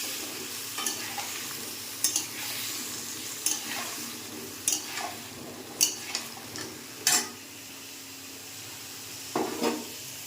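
Potatoes, pumpkin and jackfruit seeds fry together in hot oil, a steady sizzle broken by sharp scraping stirs roughly every second or so, close and moderately loud with no voices.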